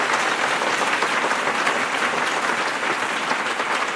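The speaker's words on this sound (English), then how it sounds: "Did you see that the applause worked after I spoke?" Applause sound effect played on a podcast, a dense continuous wash of crowd clapping at steady loudness throughout, with no voices over it.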